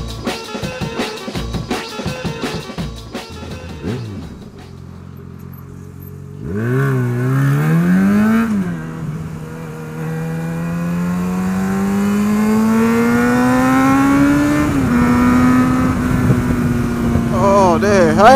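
A Yamaha XJ6 motorcycle rides on back roads, engine chattering at idle, then revving and pulling away with rising pitch through gear changes, loud and steady with wind rush.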